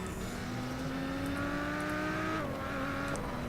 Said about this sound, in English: So the car I'm in right now is the Nissan Skyline GTR, I think it's the Z-Tune.